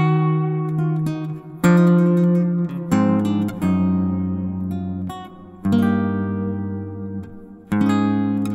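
A classical guitar plays a slow sequence of plucked chords, each ringing out before the next is struck, clear and close with no voices.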